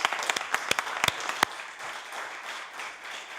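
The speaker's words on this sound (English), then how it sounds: "I ask you to stand for a round of applause." A short burst of applause breaks out in the House of Assembly, a cluster of sharp claps that quickly thins into scattered clapping and fades over a few seconds.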